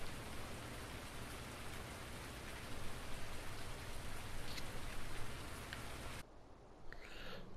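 Steady rain patters down in a farming video game as an even, close hiss of drops on surfaces, then cuts off abruptly near the end, leaving quieter background ambience.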